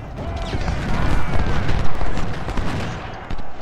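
Dense, continuous booming blasts from seven cannons roll one into another, loud and close, a heavy barrage of cannon fire in Ultimate General: Civil War at Gettysburg.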